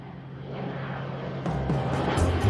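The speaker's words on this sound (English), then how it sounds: "Plane." An airplane engine roars as a short sound effect, a broad, rough drone that swells louder over a couple of seconds with no voices.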